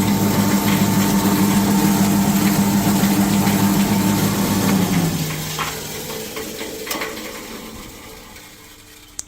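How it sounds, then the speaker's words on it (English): A heavy motor hums steadily with a low drone, then winds down partway through, its pitch and loudness fading toward the end. "that's a substantial electric motor"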